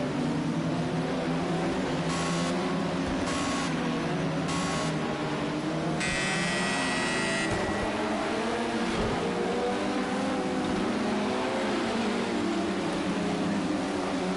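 LMP2 race cars roll single file on a slow parade lap before pitting, a steady droning engine hum with layered tones, broken early by a few short beeps.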